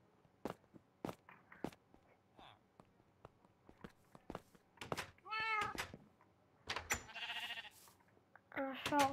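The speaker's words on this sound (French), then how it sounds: "Un chat, regarde" A cat in the Minecraft video game meows several times in short, close bursts, mixed with bleat-like calls and scattered footsteps, while people talk over it.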